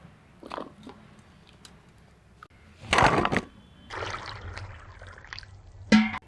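Ginger rinsed in water by hand during kitchen prep, with brief splashing bursts and a sloshing pour standing out among quieter handling noises and clinks.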